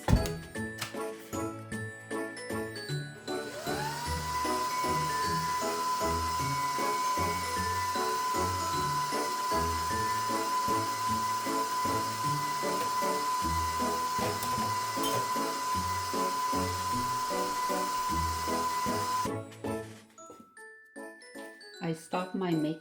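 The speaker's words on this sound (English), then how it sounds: "I stopped my mixer" An electric mixer beats cream cheese frosting, a loud steady whir with a rising tone that holds for about sixteen seconds and then stops.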